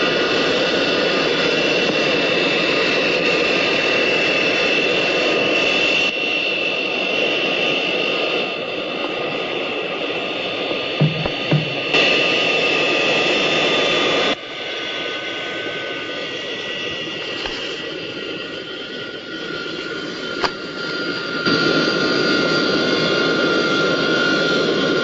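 A jet airliner's engines roar loudly and steadily with a high-pitched whine, holding a constant drone that shifts slightly in level over about twenty-five seconds, with no talking.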